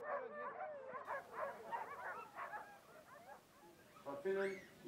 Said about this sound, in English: one of whom was Lucy van Swanenberg, completing the last race with the Setanta dogs.